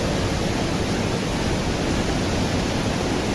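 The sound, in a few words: Kempty Falls waterfall in Mussoorie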